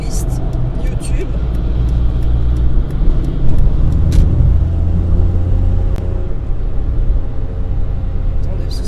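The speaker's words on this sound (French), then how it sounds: "ça fuse de partout, voitures, camions." Cars and trucks stream past on a French motorway, a loud continuous low rumble and road roar heard from inside a moving car, with brief swells as vehicles go by and a voice talking over it.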